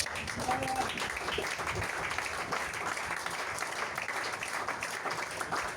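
A church congregation applauding during a sermon, sustained dense clapping throughout, fairly loud and reverberant with voices mixed in.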